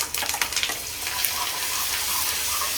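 Masala hitting hot oil with curry leaves in a kadhai for spicy Nashik-style vajdi, a loud, continuous close sizzle and crackle with a few sharp spatters at the start, no voices.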